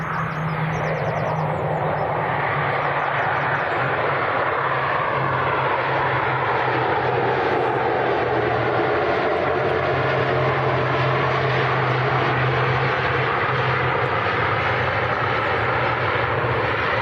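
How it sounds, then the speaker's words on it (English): Loganair ATR 42 turboprop landing at Manchester Airport after a flight from Inverness, a loud sustained propeller and engine drone with a steady low hum and a slowly shifting pitch, close and alone throughout. "Little baby one, the little ATR 42. It's come down from Inverness."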